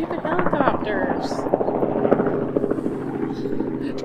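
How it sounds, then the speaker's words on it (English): Rhythmic thumping rotor chop of a helicopter passing close overhead in the Smoky Mountains, loud and continuous, with people talking underneath. "Damn, these stupid helicopters."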